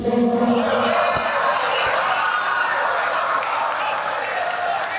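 A crowd of listeners at a mushaira in Mainpuri claps steadily, a broad wash of applause that begins loud and fades slightly over five seconds, with a few cheers mixed in.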